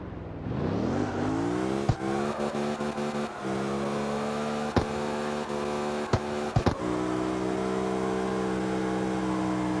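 A self-built Porsche drift car in CarX Street revs up from low to a steady high engine drone, held nearly constant with a few sharp clicks or shift knocks along the way, close and clear.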